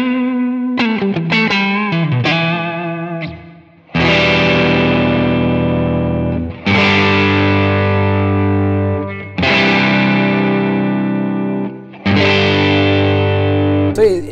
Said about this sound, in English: once I engage the pedal, that tone actually beefs up and it fattens the tone, and it adds a little bit more lows to the sound